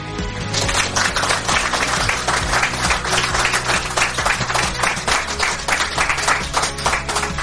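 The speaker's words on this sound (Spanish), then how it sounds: "lo mejor que podemos hacer, creo yo, es recibirlos con un aplauso" A large audience gives loud, sustained applause, a dense wash of clapping that rolls on for several seconds with crowd noise underneath.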